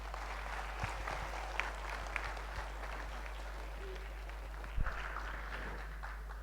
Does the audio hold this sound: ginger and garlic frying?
no